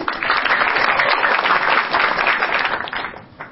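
Crowd at a stand-up comedy battle applauding and cheering, a thick wash of clapping that stays loud and continuous, then thins and fades toward the end.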